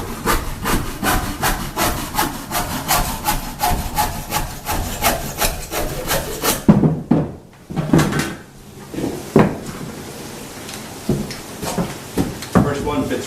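Rhythmic back-and-forth strokes of a handsaw cutting through wood while preparing a fireplace, fast and close, followed by a few slower, uneven strokes and scraping.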